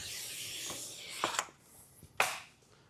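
Blade cutting excess vinyl wrap film on a Tesla hood: quiet scraping rubs with a few sharp slicing strokes, two of them louder and crisper near the end.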